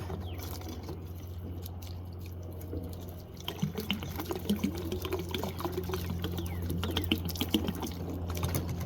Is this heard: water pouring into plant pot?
yes